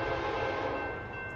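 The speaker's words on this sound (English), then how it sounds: "Here come the Union Pacific train." A Union Pacific freight train heading northbound on track one rumbles past steadily and fairly loud, a continuous dense roar of rail noise with a faint high tone near the end and no talking.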